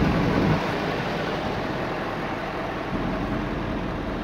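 A 6.7-litre turbo diesel pickup engine idles steadily and continuously, a low broadband rumble holding at an even level throughout with no voices.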